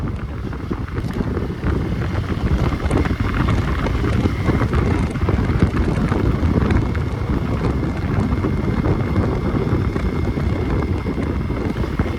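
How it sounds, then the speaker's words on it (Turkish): Strong wind roars against the microphone during a ride on a Hero 200 Xpulse motorcycle along a rough road, a loud, continuous buffeting rush that dominates the whole stretch. "Bayağı bir rüzgar var arkadaşlar."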